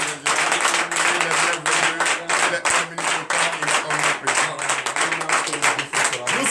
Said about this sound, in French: je demande encore au peuple de Dieu d'applaudir très fort